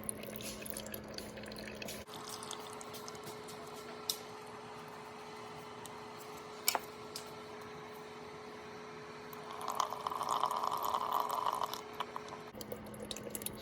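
Fuel drains from a Yamaha TW-200 carburetor, a soft steady trickle and drip with a faint hum underneath, growing briefly louder near the end; no talking.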